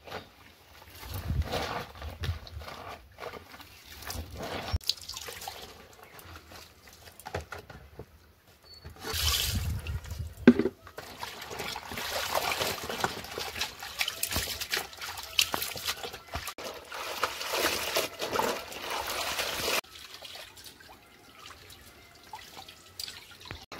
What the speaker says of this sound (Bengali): ভেজানো জামা কাপড়গুলো আমি কেচে নেব